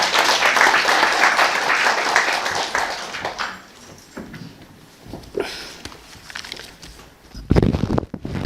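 Audience applause at a 2024 Dongguk University Buddhist graduate school entrance ceremony, a dense crowd of clapping that fades after a few seconds into scattered room noise and a few sharp knocks.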